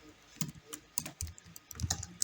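Irregular bursts of keystrokes on a computer keyboard while code is typed, close and fairly quiet, with short pauses between clusters of clicks.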